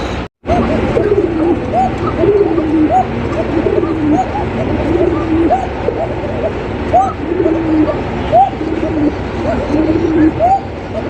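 Many pigeons, including young birds, coo continuously at a pigeon market amid a steady busy crowd hum, the repeated throaty calls layered and fairly near.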